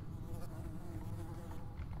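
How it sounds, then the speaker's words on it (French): A fly buzzes steadily and close by in Metro: Last Light, its droning hum continuous and even throughout, with no voices over it. "Hey, mouche."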